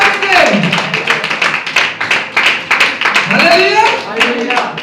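A church congregation claps loudly and rhythmically during a Sunday anointing service, sharp strikes repeating in a steady beat while a voice speaks over the clapping.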